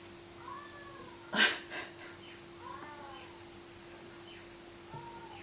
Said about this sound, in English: that's him meowing